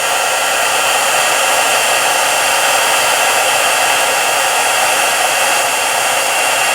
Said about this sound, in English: we're just going to turn on the heat tool and just set that embossing powder.